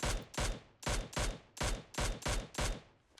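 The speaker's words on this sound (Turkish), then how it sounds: "Bak mesela şu an iki mermi atacağım ölecek." Gunshots ring out in the PUBG Mobile video game: eight loud, sharp, close reports fired at an even, fairly quick pace over about three seconds, each with a brief decay.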